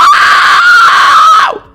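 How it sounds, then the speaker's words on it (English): A whistle register fry scream, a piercing, sustained high-pitched vocal scream held steadily for under two seconds before dropping off sharply, loud and close, with no other sound around it. "either going with a head fry scream or something called a whistle register fry."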